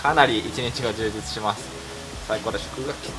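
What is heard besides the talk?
None of the usual background noises is heard.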